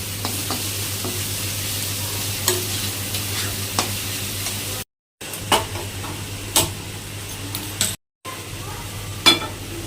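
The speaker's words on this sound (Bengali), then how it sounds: "পেঁয়াজটা ভাজা হতে থাকুক" Onion frying in a pan with salt and turmeric, a close, continuous sizzle with a low steady hum beneath and occasional spatula taps, cut by two brief silent gaps.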